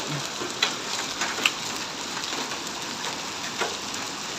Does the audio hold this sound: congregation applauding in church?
no